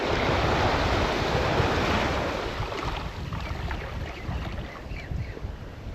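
Loud, steady surf and crosswind on a Perth beach, a dense roar of breaking waves that eases slightly after a couple of seconds into rougher, gusting wash.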